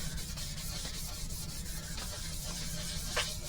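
Wet-and-dry abrasive paper scrubs rust off the metal bed of a Rutlands R1 lathe with a lubricant, a continuous soft rasping rub in short repeated strokes, close and fairly quiet.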